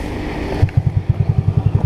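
A Suzuki motorcycle engine with an aftermarket exhaust idles nearby with a deep, uneven, throaty exhaust burble after a brief rise in revs.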